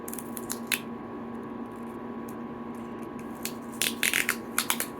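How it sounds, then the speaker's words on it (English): Clear tape is handled during a puppet repair: close crinkly crackles and short sticky rips, sparse at first and then a quick cluster near the end, over a steady room hum, with no talking. "this is clear tape that I'm using"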